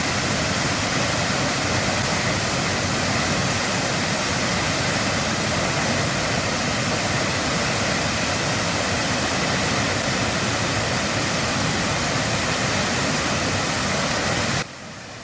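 Roaring water of Cumberland Falls pours in a loud, steady broadband rush that stays constant for about fifteen seconds, then drops slightly at the very end.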